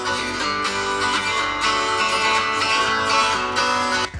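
A Samsung Galaxy Note 9 plays music through its AKG-tuned stereo speakers, loud and bright with a steady rhythmic pulse over about four seconds before stopping abruptly.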